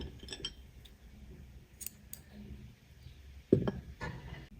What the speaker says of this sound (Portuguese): Agora eu posso cortar o meu fio.